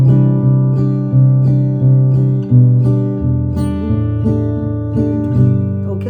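Plucked fingerstyle acoustic guitar moves through a chord sequence with alternating picked notes, steady and close, ringing clearly without any voice.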